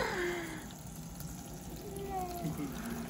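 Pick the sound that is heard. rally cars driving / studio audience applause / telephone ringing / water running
water running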